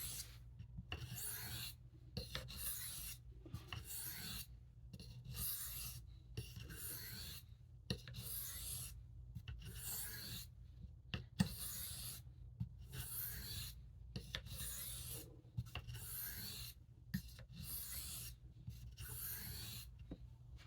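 Steady back-and-forth rasping of a knife blade stroked across a Hard Arkansas whetstone to remove the burr, close and even, with rhythmic strokes separated by brief pauses and no talking.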